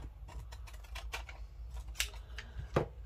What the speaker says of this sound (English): Just trim that little bit of paper off.